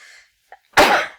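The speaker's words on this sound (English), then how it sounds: "Oh goodness, just about to sneeze." Single abrupt sneeze from a lecturer, preceded by a faint breathy intake, loud and close.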